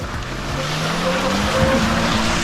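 A Honda CR-V 4x4 engine revs hard under full throttle. The loud, continuous roar climbs steadily in pitch, with rushing noise underneath.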